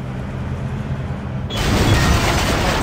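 Car crashing into a house in the demolition game Demolition, Inc, a dull low rumble that jumps midway into a louder broadband burst of impact and debris noise, with no talk.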